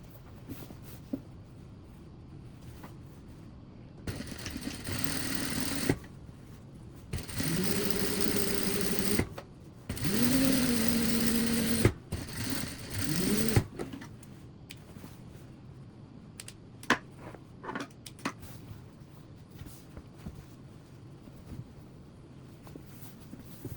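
A sewing machine stitches the bottom seam of a drawstring bag, running in several short bursts of steady mechanical whirring separated by pauses, close up with small clicks and handling noises between runs.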